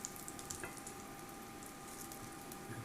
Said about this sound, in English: Let's go ahead and throw the butter in now